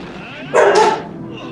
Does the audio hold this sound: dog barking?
yes